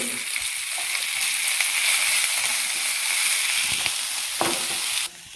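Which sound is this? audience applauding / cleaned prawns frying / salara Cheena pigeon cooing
cleaned prawns frying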